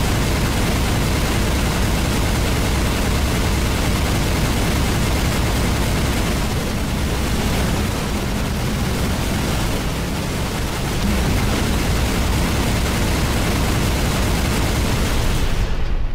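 A Ghost vehicle in modded Halo Reach auto-fires by itself, making a dense, loud, unbroken roar of weapon noise that barely dips across the whole stretch.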